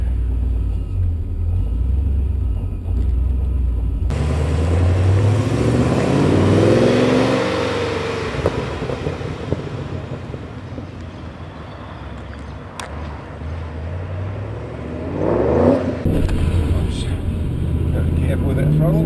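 A Holden Monaro (GTO) with a 416 LS3 V8 on a road drive, a loud steady engine rumble that swells as it revs and accelerates, surging again near the end, with talk in the car.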